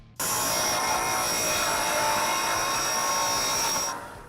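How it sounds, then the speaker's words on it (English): A belt sander cleans up the notched edges of steel tubing with a loud, continuous high-pitched abrasive whine and grinding roar that starts abruptly, holds steady for about four seconds, then cuts off. "We're going to go over with our belt sander and clean up the edges."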